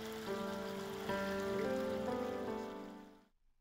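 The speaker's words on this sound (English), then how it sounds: "With a gurgling brook underneath." A gurgling brook flows steadily, a bright continuous trickle of running water with a sustained tonal ring, holding level for about three seconds and then cutting off abruptly.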